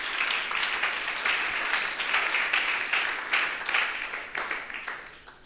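Congregation applauding in a church: steady, dense clapping from many hands that swells and tapers off over several seconds.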